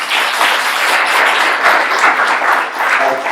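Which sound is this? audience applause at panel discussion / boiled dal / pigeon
audience applause at panel discussion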